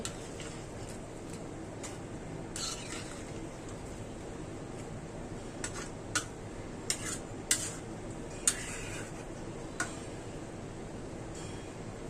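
Utensil clinks and scrapes against a pot while chicken gizzard and liver curry with greens is stirred over a low gas flame, scattered sharp metallic taps over a steady background hiss.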